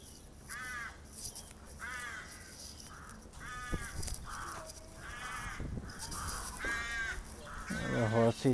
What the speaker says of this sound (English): All the crows together.